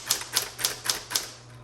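A 1960s Smith Corona Electra 110 electric typewriter types five or six sharp, evenly spaced key strikes in quick succession, close and crisp over a low steady motor hum.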